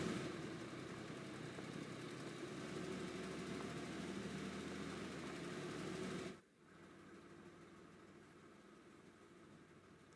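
Steady engine idle from a vehicle in a World War II strategy game, a continuous low rumble with a mechanical buzz that drops away abruptly partway through, leaving quieter noise.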